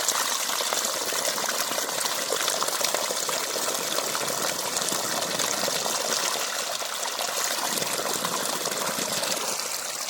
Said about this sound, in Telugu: చూడండి ఫ్రెండ్స్, ట్యూబ్లలో నీళ్ళు పోతా ఉన్నాయి.